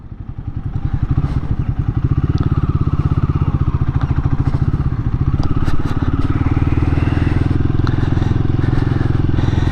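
A Royal Enfield Guerrilla 450 motorcycle, still new and tight, rides with a loud close single-cylinder thump that climbs in revs and holds steady, a rapid pulsing beat under wind.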